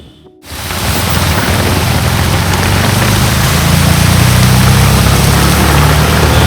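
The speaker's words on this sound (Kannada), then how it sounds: "ಬಟ್ ಜೋರು ಮಳೆ, ರೋಡೆಲ್ಲ ಫುಲ್ ನೀರು ತುಂಬೋಗ್ಬಿಟ್ಟಿತ್ತು" Heavy rain pours steadily onto a flooded road, a loud, dense and continuous hiss that starts abruptly and holds without pause, with a faint low rumble of traffic underneath.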